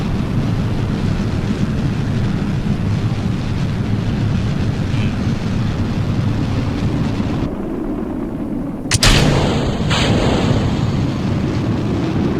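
A Kerbal Space Program rocket roars in flight with a steady broadband rumble, then a sudden loud burst and crackle erupts near the end before the roar settles again.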